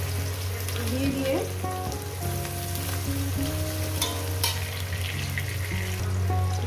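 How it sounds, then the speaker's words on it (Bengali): Chopped onion and green chili fry in a pan, a steady moderate sizzle with occasional stirring clinks, while a voice talks softly in the background. "এই পেঁয়াজটাকে মিনিমাম 3-4 মিনিট ধরে 4 মিনিট ধরে আমি পেঁয়াজটাকে ভেজে নেবো, কাঁচা লঙ্কা পেঁয়াজটাকে।"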